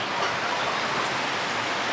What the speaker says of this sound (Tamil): எந்த அளவுக்கு மழை பெய்யுது பாருங்க